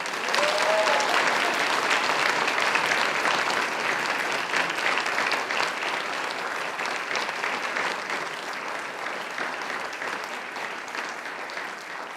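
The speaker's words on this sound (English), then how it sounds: "And now I invite you to give them a mighty round of applause." Graduates at a Macquarie University graduation ceremony give their families and friends a big round of applause, dense sustained clapping from a large crowd filling the hall, slowly easing off toward the end.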